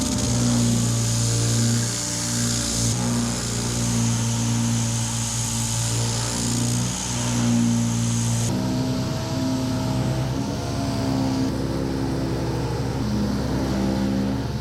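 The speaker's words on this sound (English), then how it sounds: "next I'm going to take 80 grit on a DA and go over that whole area" A dual-action sander fitted with 80-grit paper works over the body of a 1970 Chevelle, a loud continuous droning whir with slight shifts in pitch throughout.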